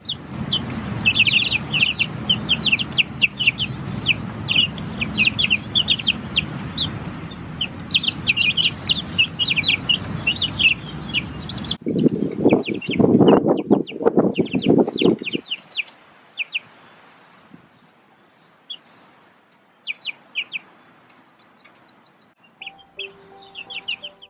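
Young chicks a few days old peep in rapid, high, overlapping chirps, close by. A low rumbling background is heard at first, then it cuts away and leaves sparser peeping in quieter surroundings.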